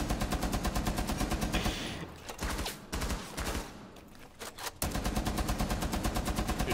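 Rapid automatic gunfire from Rainbow Six Siege, a fast regular stream of shots that breaks off into scattered, muffled in-game noise before the steady burst resumes, moderately loud with no talk.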